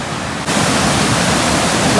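Water rushes at Devkund waterfall in Raigad, Maharashtra, a fast and dangerous flow heard as a loud, unbroken roaring hiss that swells slightly after the first half second.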